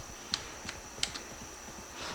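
Computer keyboard keys click in a quick irregular patter while playing Valorant on PC, a handful of crisp taps spread over two seconds, close and moderately quiet with no talking.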